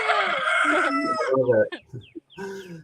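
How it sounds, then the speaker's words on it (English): A rooster crows loudly and close by, a long strained call, followed by softer clucking and a second shorter crow. "My roosters like to talk back and forth to each other."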